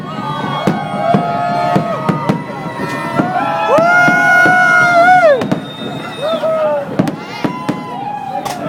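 New Year's Eve fireworks over Las Vegas, seen from a rooftop at Veer Tower: loud, sharp bangs and crackling bursts come in quick succession over a steady crowd roar, with cheering voices and whistles rising through the display.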